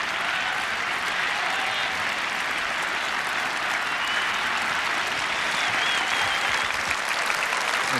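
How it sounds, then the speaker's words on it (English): Cricket crowd at a 1990 England v India Test match giving a sustained ovation for a bowler taking his fourth wicket, dense continuous clapping from a large stadium audience. "The crowd will give him a terrific ovation."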